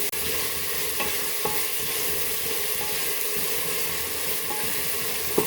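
Chopped tomatoes, two of them, being stirred into frying onions in a pan for kuska rice, with a steady sizzle and scraping of the spoon throughout, close and continuous, no talking.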